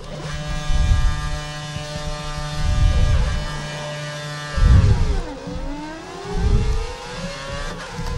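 Formula 1 car engine in the F1 2013 racing game, a high, buzzing whine held steady and then sweeping down and back up, with repeated low thumps and no talking.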